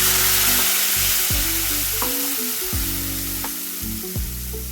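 Hot oil heating in a pan for street-style pav bhaji gives off a steady, close hiss. A low humming drone runs underneath with a few brief clicks, and no one speaks.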